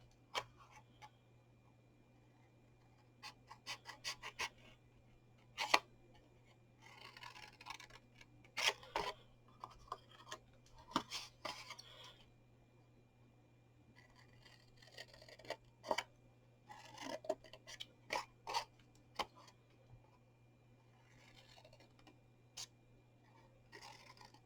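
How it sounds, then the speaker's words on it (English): Scissors snip through card for a soap gift box, a string of short, crisp cuts in separate bursts over a quiet background hum. "So again, we're going to cut in the 4 sides."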